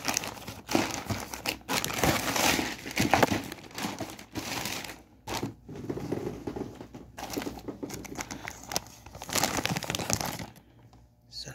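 Crinkling and rustling of a parcel holding running shoes being handled and opened during an unboxing, with bursts of crumpling packaging that continue steadily throughout, close to the mic, briefly pausing near the end.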